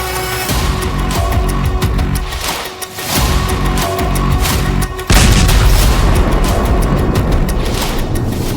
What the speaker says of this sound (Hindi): मिसाइल लॉन्च होती है और बढ़ जाती है अमेरिका और इजरायली अड्डों की तरफ।